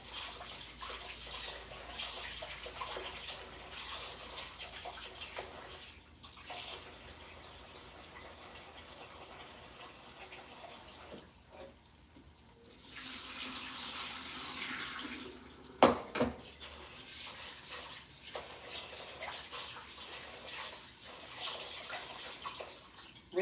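Running tap water pours over rice being rinsed in a pot, a soft steady hiss with sloshing and a few brief splashes and clunks, faint and close.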